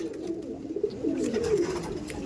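Andhra pigeons in a loft give low, rolling coos, several overlapping calls forming a continuous throaty murmur at close range with no talking.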